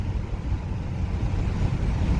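A Ford F-250 with the 7.3-litre gas engine pulls hard after a downshift, a steady low engine drone mixed with road and wind rumble from inside the cab.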